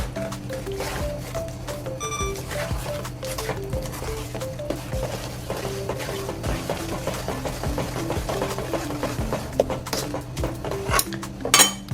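A pot of shiso miso goes onto the stove with clattering cookware and utensil scrapes, metal knocks and light taps running steadily throughout, close and fairly busy, with no speech.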